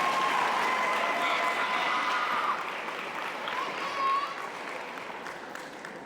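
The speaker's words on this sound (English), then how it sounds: "Round of applause for your 12-season athletes," An audience claps at a high school athletic awards ceremony, with broad steady applause that swells at first and then thins and fades over several seconds.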